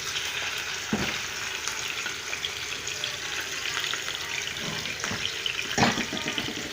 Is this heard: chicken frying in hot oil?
yes